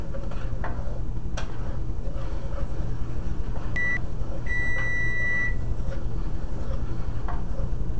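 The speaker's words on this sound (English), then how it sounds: "we just heard our biscuits beep" A few short electronic beeps from an oven timer sound over a steady low hum, one brief and then a longer pair close together.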